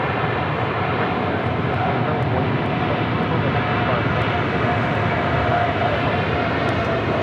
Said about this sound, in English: the American Airlines in the AirCal retro livery flight 2002 heading to Las Vegas in the 737-800